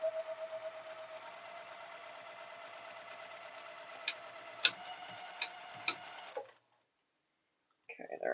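A sewing machine stitches steadily, a close, fast mechanical ticking hum with a few louder clacks, then it stops and brief handling noise follows.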